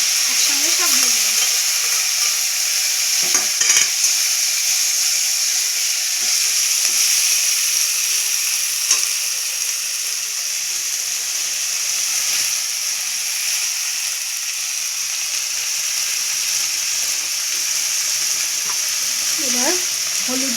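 Onion, ginger, garlic, green chili paste and tomato frying in a pan, giving a loud, continuous sizzle and hiss throughout, with occasional faint stirring clinks.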